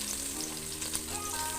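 Onions fry in oil in a pan for egg biryani, giving a faint, steady sizzle with no break and no talking.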